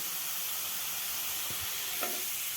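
Grated carrot frying in a pan for a paneer carrot paratha filling, a soft continuous sizzle with a couple of faint stirring clicks, quiet and without speech.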